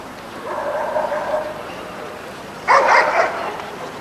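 Dogs at a 1994 championship dog show in Driffield give a burst of barking in a large hall, a short loud flurry after a softer stretch of murmuring crowd noise.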